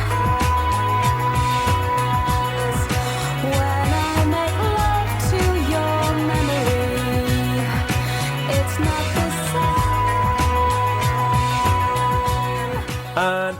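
Full-band cover of a song, with a steady driving rhythm, bass, guitars and a dense mix playing continuously and loud with no talking.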